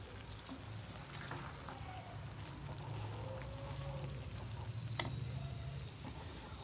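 Prawn masala gets stirred in a pan, with faint, soft sizzling and scraping heard quietly at close range and no talking.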